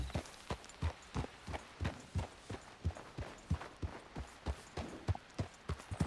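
A horse's hooves clip-clopping in a steady, even rhythm, about a dozen crisp strikes, fairly close, with no voices.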